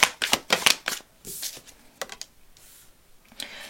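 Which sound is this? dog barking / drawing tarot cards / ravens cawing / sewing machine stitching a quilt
drawing tarot cards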